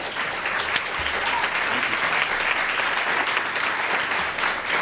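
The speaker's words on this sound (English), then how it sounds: "They clap before you even say thank you" Sustained audience applause at a talk on independent filmmaking, a steady, even roar of many hands clapping with no break.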